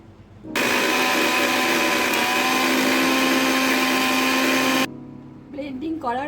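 A kitchen blender grinding poppy seeds, green chilies, raw peanuts and a little water, running loud and steady for about four seconds, then stopping abruptly; faint voice after it stops.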